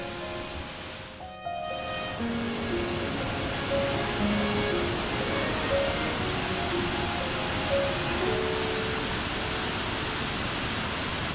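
Steady roar of the 19-metre Mentaki, one of the Nunobiki Falls in Kobe, Japan, a dense rushing wash of falling water that continues unbroken throughout.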